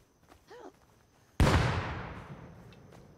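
A grenade in the video game HarGin Security goes off with one sudden loud blast that decays into a long rumbling tail, after a brief faint squeal and soft ticks.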